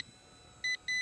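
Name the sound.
beeping from RC helicopter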